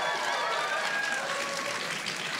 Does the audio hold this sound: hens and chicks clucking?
no